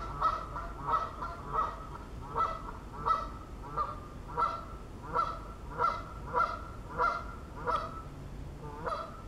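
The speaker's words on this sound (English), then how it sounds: "Shut up, geese." Geese by a snowy river honking in a steady, repeating rhythm of about a dozen nasal calls, each roughly three-quarters of a second apart, moderately loud over a low background rumble with no speech.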